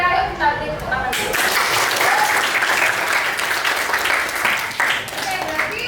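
Students in a classroom clap together for about six seconds, a dense steady round of applause close by, with some voices mixed in.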